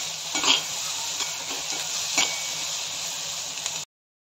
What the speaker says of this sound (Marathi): या भाज्या व्यवस्थित फ्राय घ्यायचे।